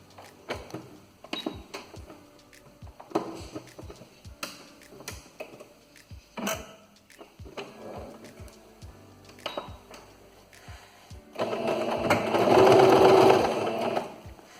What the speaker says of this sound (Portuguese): Vou fazer um pesponto aqui rente nessa linhazinha que a gente fez costurando.